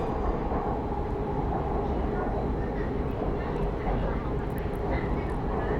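A steady rumbling hum fills the inside of a moving Bangkok Purple Line metro carriage, with a faint whine and low background chatter.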